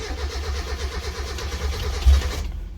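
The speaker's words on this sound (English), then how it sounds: "Oh, she wanted to go." A budget Mazda Miata engine with a SpeedyEFI plug-and-play fuel injection setup cranks and tries to start, a steady rumbling churn with a sharp bump near the end before it cuts off abruptly; close and moderately loud, no talking.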